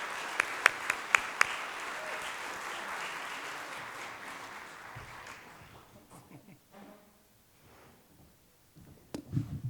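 An audience at an applied art and design award ceremony applauds, steady, moderately loud clapping that gradually fades, with a few sharp close claps near the start and talk resuming at the end.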